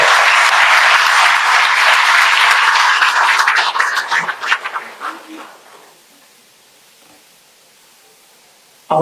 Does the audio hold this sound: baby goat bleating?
no